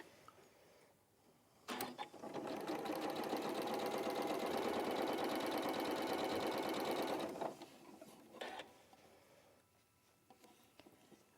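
Sewing machine running steadily for about five seconds, stitching a quarter-inch side seam, with brief clicks and handling noises before and after; loud and close, no talk.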